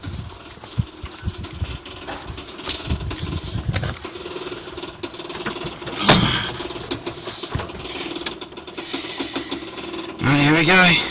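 An old engine runs with a rough, rattling chug and irregular knocks, with a person talking over it at times and a higher whining tone near the end.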